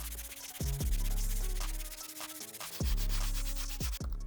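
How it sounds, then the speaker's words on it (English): A medium bristle brush scrubs the insole of an Air Jordan 13 sneaker in steady, close back-and-forth strokes, a continuous scratchy rubbing at moderate volume with no talking. "Got the medium bristle brush, let's give it a good scrub."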